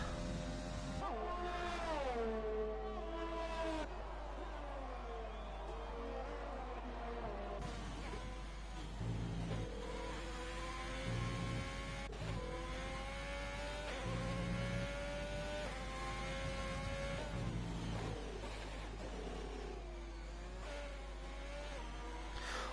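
A race car in a racing video game lapping Silverstone, its engine whine climbing and dropping in repeated sweeps through gear changes and a corner, steady and unbroken, with no speech.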